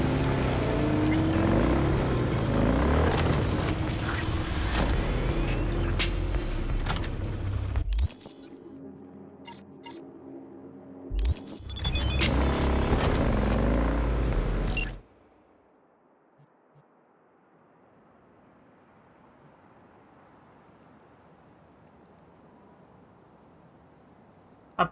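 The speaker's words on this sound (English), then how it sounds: "A Porsche 911 Turbo Cabriolet." A Porsche 911 Turbo Cabriolet in the video game Cyberpunk 2077 drives with a loud, steady engine roar and road noise, briefly interrupted, then cutting off abruptly to a quiet ambient hiss.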